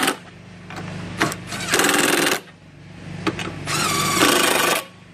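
A power tool with a 12 millimeter socket runs in two loud, buzzing bursts of about a second each, tightening bolts down. Short clicks and ratchet noises come before and between the bursts.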